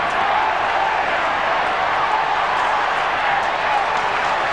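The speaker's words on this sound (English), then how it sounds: "Crowd's going berserk." A football stadium crowd roars and applauds in a loud, sustained wash of cheering that fills the whole stretch, with a commentator's voice partly audible over it.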